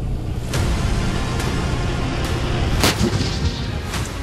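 Military tank guns firing shells during training, several loud sharp booms spaced a second or so apart over a constant heavy rumble, with no talk.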